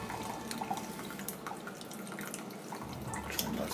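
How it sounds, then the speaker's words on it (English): Excess water poured off cooked ramen noodles on a Firebox stove outdoors, a steady close splashing trickle with small drips, continuous for a few seconds with no voices. "just get rid of some of that excess water"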